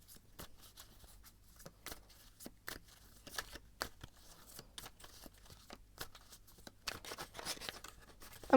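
Tarot cards shuffled by hand, with soft repeated flicks and slides in an uneven rhythm, close up and fairly quiet.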